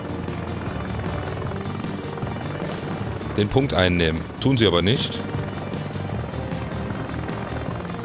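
An Apache helicopter flies in the combat game Heliborne, its rotor drone steady and loud throughout, swelling briefly midway while someone talks over it.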